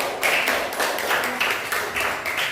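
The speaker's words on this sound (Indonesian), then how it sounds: "Tepuk tangan dulu untuk kita semua" Applause from a group of teachers in a training session, rhythmic bursts of clapping that pulse in fairly even waves, moderately loud and close, with no voices over it.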